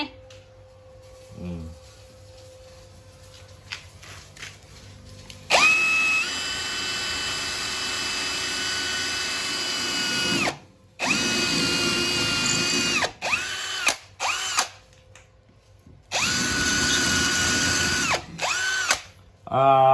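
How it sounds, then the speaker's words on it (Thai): A hammer drill runs in several loud bursts into concrete, some long and some short, with brief pauses between them, after a quieter stretch at the start. "สว่านตัวนี้นะครับมีระบบกระแทกนะครับ"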